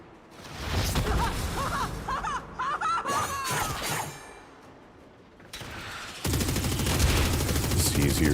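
Gunfire in the Warframe shooter game, rapid bursts of shots crackling in clusters, a quieter lull, then a dense sustained volley near the end, with bits of speech and chirpy game effects mixed in.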